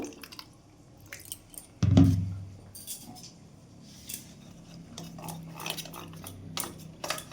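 A spoon stirs a spoonful of cornflour into a little water in a small bowl, giving a sharp clink followed by light scraping, tapping and watery squishing, quiet and close.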